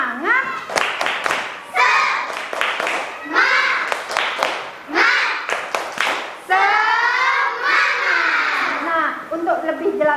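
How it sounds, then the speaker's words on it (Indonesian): Fourth-grade schoolchildren in a classroom perform a rhythmic spirit clap, loud unison chanting voices mixed with bursts of sharp claps in a set pattern. "Tepuk semangat."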